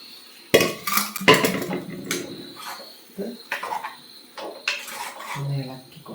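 Mutton curry with green chillies and masala powders stirred in a pot in a home kitchen in Kottayam, scraping and clinking of a spoon against the vessel in uneven strokes, close by, under a woman's intermittent speech.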